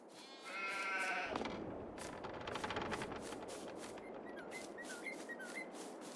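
Sheep bleating inside a barn in a realistic farming simulator game: one loud, wavering bleat up front, then a steady ambient wash with faint, scattered chirps and no talk.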